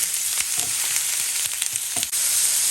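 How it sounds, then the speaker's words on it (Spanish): About twenty dried chiles de árbol frying in oil in a pan, a loud, steady close sizzle with a few brief stirring scrapes mixed in throughout. "agregar 20 chiles de árbol o chiles secos y sofreír también por un momento."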